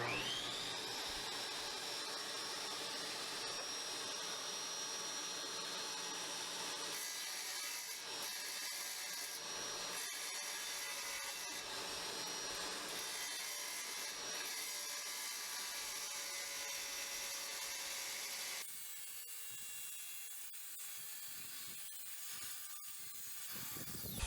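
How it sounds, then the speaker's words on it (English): A Dewalt wet tile saw tilted for a miter cut grinds steadily through tile for about eighteen seconds, loud and continuous, then drops to a quieter motor whine as the blade finishes. "It is a bit easier and quicker to miter with the Dewalt."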